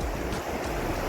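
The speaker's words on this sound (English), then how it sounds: "this river really is raging" Raging river in the Sierra Nevada high country near Forester Pass, a steady dense roar of rushing water close by, broadband and unbroken with no voices over it.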